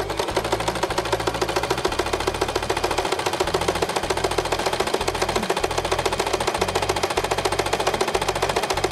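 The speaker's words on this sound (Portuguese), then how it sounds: "levanto o pedalzinho, tá? E vou costurar aqui na lateral." Sewing machine stitching the side seam of a placemat, running steadily for the whole stretch with a fast, even mechanical chatter and a low motor hum.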